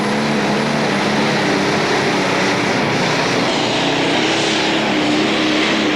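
A pulling tractor roars continuously at full power during a 1996 European tractor pulling event in Hörby, Sweden, a loud dense drone with a slowly shifting pitch.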